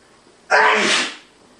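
A single loud sneeze bursts out sharply, then trails off into quiet; no talking around it.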